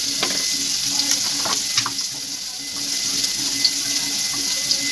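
Spices frying in a pan with oil, a steady close hiss and sizzle with small crackles and occasional stirring scrapes throughout.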